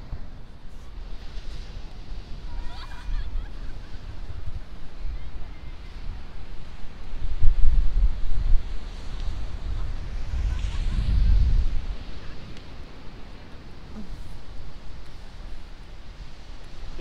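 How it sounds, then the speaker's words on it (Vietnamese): Strong wind at the seaside in Taiwan buffets the microphone in low, uneven gusts that swell louder midway. Steady surf-like hiss sits underneath and soft voices are heard faintly. "Quá gió luôn."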